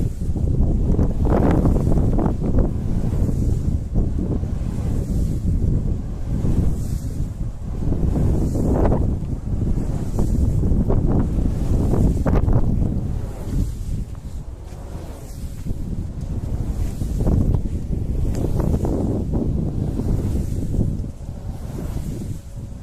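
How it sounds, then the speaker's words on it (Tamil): Wind turbine blades sweep through strong coastal wind at the Nadukuda wind farm on the Mannar coast, giving a steady loud roar with rhythmic whooshing surges, heavy wind buffeting on the microphone. "இந்த காத்தை வெட்டி வீசுற சத்தம் கேக்குதா உங்களுக்கு?"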